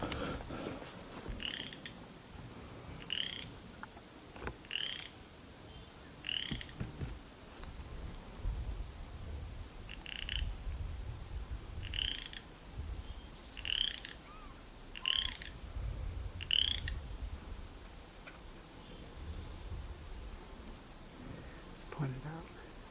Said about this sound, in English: A frog croaking up.